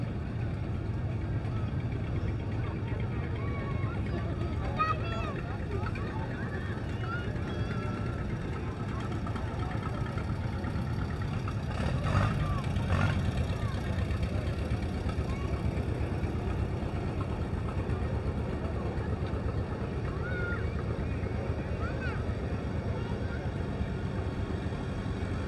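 Restored tractors roll past in a Veterans Day parade, a steady low engine rumble and idling drone running throughout, with a few brief clanks midway and a voice talking over it.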